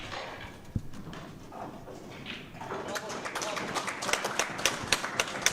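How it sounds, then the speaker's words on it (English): A local crowd at a pool event breaks into scattered applause that swells into steady clapping in the second half, preceded by a sharp click of balls early on, with faint background murmur. "Nice round of applause from the local crowd."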